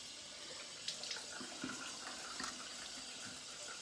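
Cold water runs from a tap into a bathroom sink during a shave, a steady faint hiss and splash with a few small clinks and no voices.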